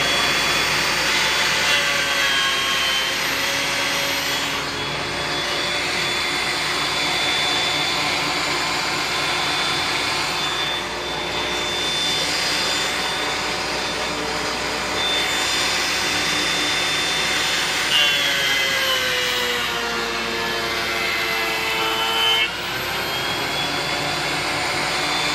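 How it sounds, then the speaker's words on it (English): Burnt walnut boards are fed through a wood planer, a loud, steady high-pitched roar and whine that runs continuously with slight shifts in pitch as the cutter bites. "when I run that through the planer, that top layer that got burnt will be completely gone"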